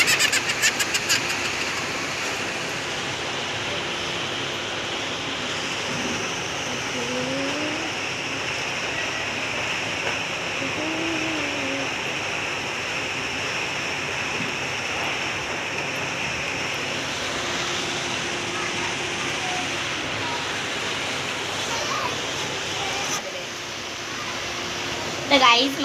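Okra being washed under water, a continuous rushing splash of running water throughout, with a person speaking over it.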